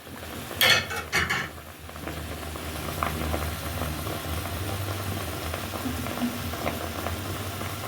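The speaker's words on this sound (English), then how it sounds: "it's going to simmer down for half an hour" Jamaican wine beef simmering in a pot, giving a steady low bubbling and hissing that runs through the whole stretch with a few brief clinks of cookware near the start, and no talking.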